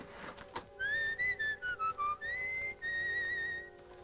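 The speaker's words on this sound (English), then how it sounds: "Do you have to whistle that song?" A person whistles a short, clear melody of bright sustained and stepped notes, steady and fairly close, with no talking over it.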